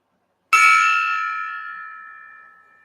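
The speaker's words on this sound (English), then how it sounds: "I got this meditation gong." A single strike on a small meditation gong, a bright metallic ring that starts sharply and decays slowly over about two seconds, alone and close.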